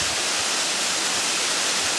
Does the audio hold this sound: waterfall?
yes